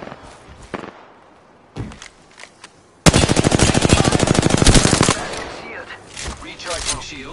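Gunfire in Apex Legends on PS5: a few scattered shots and footsteps, then a loud sustained automatic burst of about two seconds, followed by lighter scattered sounds.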